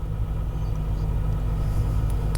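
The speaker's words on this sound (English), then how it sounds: "The rescue truck has a lot of noise." A rescue truck's engine rumbles steadily at an emergency scene, sounding as a loud, continuous low drone without a break.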